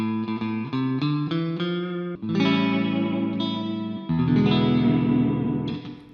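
Electric guitar notes and chords through a practice amp's spring reverb ring out with a splashy, echoing reverb tail, first plucked in a quick pattern, then held strums that wash and shimmer.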